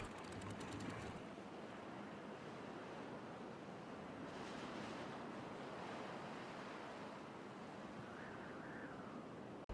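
Steady broadband rush of water bursting through a breached barrier in the Timberborn game, a continuous surf-like wash that stays loud and even throughout, with no talk over it.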